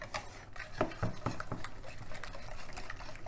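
Salmon cake batter is stirred by hand in a bowl, giving wet squelching and irregular utensil taps against the side, close and moderately quiet with no talking.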